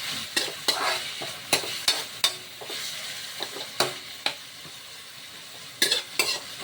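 Tomatoes sizzle and fry in a pan at home while a utensil stirs and scrapes them, with repeated sharp clinks and scrapes over a steady frying hiss, close and fairly quiet.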